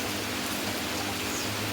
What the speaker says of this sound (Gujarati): અમારે વરસાદ ચાલુ થઈ ગયો છે સવારનો, આમને આમ છાંટા છે